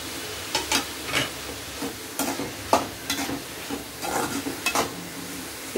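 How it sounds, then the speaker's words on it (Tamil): Banana stem stir-fried with grated coconut in a hot pan: a soft sizzle runs underneath while a spoon scrapes and tosses in quick irregular strokes, close by. "வாங்க அடுத்ததான் நம்ம துருவி வச்சுருக்க தேங்காய் சேர்த்துக்கலாம்"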